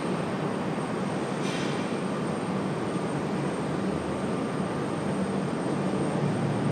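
A JetBlue Airbus A220-300 airliner at Raleigh-Durham airport makes a steady, broad jet engine roar that holds level and moderately loud throughout, with no talk heard.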